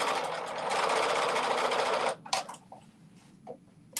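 Sewing machine runs a seam in a quick burst for about two seconds, a close, dense whirring buzz that stops abruptly, followed by a few soft clicks and handling sounds.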